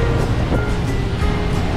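Steady surf washes in on Tarkarli beach near Malvan, a continuous close roar of breaking sea waves with some wind rumble and no voices.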